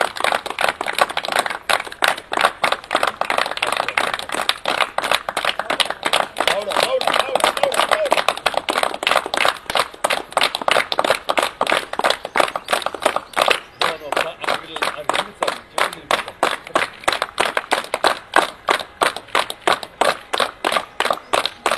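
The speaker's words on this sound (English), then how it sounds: "everybody in that balcony is clapping" Crowds clap from apartment balconies during a curfew, a dense steady patter of many hands that keeps going with little variation, with voices mixed in underneath.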